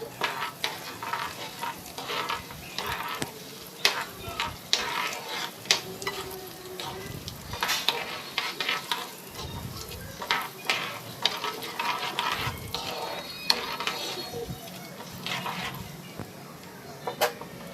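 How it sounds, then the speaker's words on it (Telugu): Urad dal, chana dal, mustard seeds and cumin fry in hot oil for a Brahmin-style grated raw mango pickle, with a steady sizzle and scattered crackles and pops running throughout, fairly close and alone without talk. "మినపప్పు కొంచెం పచ్చిశనగపప్పు తర్వాత ఆవాలు జీలకర్ర వేయాలండి వేసిన తర్వాత కొంచెం వేయించుకోవాలి"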